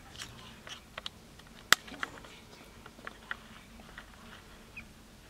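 A Mediterranean tortoise eating in an indoor tortoise table gives a few soft, irregular crunching bites against a quiet background, with one sharper snap partway through.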